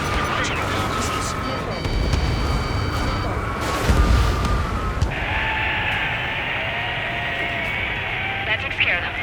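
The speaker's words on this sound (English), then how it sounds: "Launching all missiles." A full missile salvo launching in the Ace Combat 7 video game. Loud booming blasts and rushing roars build to a heavy peak, then give way to a steady high whine, with radio-style voices heard alongside.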